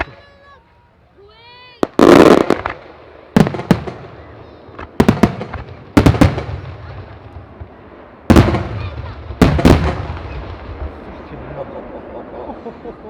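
A series of loud firework explosions at a firework festival, about six heavy bangs spaced a second or two apart, each followed by crackling and rumbling echoes.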